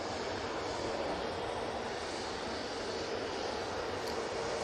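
An aircraft touching down at Manchester Airport gives a faint, steady distant rumble and broadband roar, unbroken and without voices.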